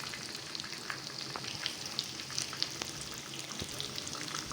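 Crispy shrimp fry in hot oil, giving a dense crackling sizzle with scattered sharp pops and clicks as the pieces are flipped one by one.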